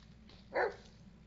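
A dog in the Blair Witch video game lets out a single short bark, faint and somewhat distant, over a low steady background of game ambience.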